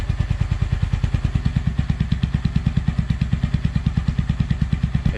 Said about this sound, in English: it's got more of a drone, it's got more of an echo, kind of a wop wop wop wop wop sound